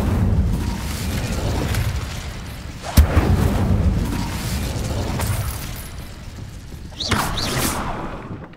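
An Incendio fire spell cast in Hogwarts Legacy, heard as a sharp, punchy burst followed several seconds later by a fiery whoosh, both over a steady low rumble.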